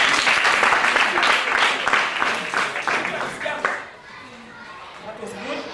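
A Kenyan eighth-grade class claps together in a dense, steady burst for several seconds, then the applause dies away into quieter room sound with voices murmuring.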